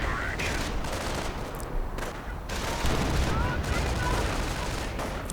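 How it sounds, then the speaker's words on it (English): Artillery and gunfire from a World War II real-time strategy battle between US and German forces, with dense continuous rumbling explosions and shots throughout. "More artillery being directed against the Germans."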